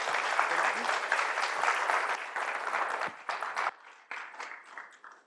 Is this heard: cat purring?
no